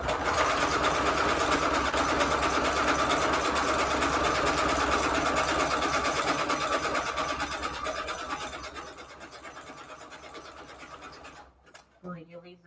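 A sewing machine runs steadily on a zigzag stitch through paper pages, set 2 wide and 5 long, a loud continuous mechanical whir that eases off toward the end before stopping with a few faint clicks.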